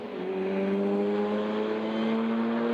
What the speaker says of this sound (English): That's not a healthy Lotus, is it at all?